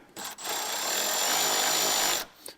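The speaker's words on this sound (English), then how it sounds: "this is why I really love these battery ratchets" A battery-powered ratchet spins a nut onto a bolt during an LED projector headlight install on a 2003–2005 Mercury Grand Marquis, giving a steady, close whirring buzz for about two seconds after a brief tap.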